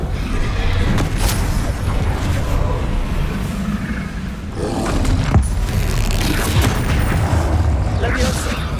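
A Confringo explosive spell blasts during Hogwarts Legacy combat, with sharp cracks and booms breaking through a loud, continuous roar of battle effects.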